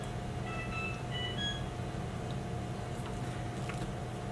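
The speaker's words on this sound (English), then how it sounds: "my washing machine has a ringtone" A washing machine plays a short ringtone of high electronic beeps, quick tones in a little melody, faint over a low steady room hum, then fades back to quiet.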